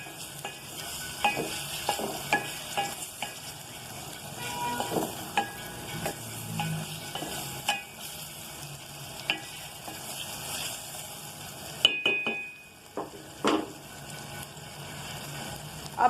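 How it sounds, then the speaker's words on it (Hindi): Chopped tomatoes and garlic are stirred in a frying pan while making dhaba-style maash dal, with a soft steady sizzle under repeated scraping and clacking of the spoon against the pan, close up, with no talk. "अच्छे से मिक्स कर दूंगी इसमें मैं ये।"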